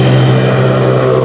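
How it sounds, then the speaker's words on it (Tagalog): Street traffic in Ortigas, Manila: a loud, close, continuous engine drone of vehicles, steady with no pauses. "Grabe ang traffic."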